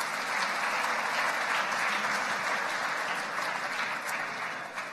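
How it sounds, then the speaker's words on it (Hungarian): Audience applause for the photographers at the Nature Photographer of the Year 2015 award ceremony, a full, sustained wash of clapping from a large hall that stays even and then tapers slightly at the end. "Egy nagy tapsot kérünk az alkotóknak."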